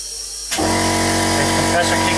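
An air compressor motor for filling a portable reserve air tank starts up abruptly partway through, then runs as a steady, fairly loud mechanical drone with a humming tone to the end.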